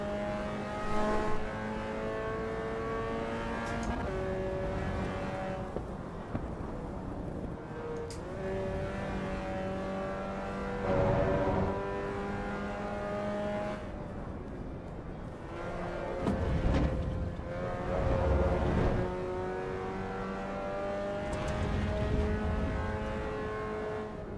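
A Caterham car engine in the racing game Assetto Corsa revs up and down through gear changes, rising and falling in tone at moderate loudness throughout.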